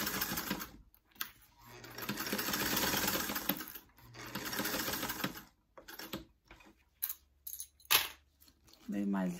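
Vintage all-metal Kenmore sewing machine running in short bursts while back stitching, a steady mechanical whir that starts and stops several times, close and fairly loud, with brief clicks between runs.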